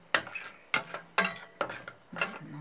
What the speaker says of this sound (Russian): Брусника кипит.